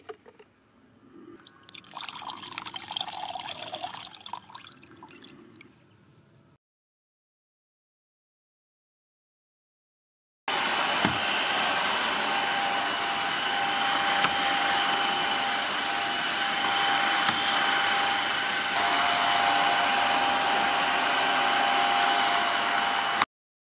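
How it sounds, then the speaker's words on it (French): Self-cleaning cycle of a Dreame H11 Max cordless wet-dry floor vacuum washer: a softer whirring burst with liquid sloshing, a pause of silence, then a loud steady motor whine running continuously to the end. "Et ça c'est le cycle auto-nettoyage"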